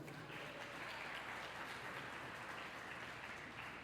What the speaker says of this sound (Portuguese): Vamos dar um forte aplauso ao Senhor.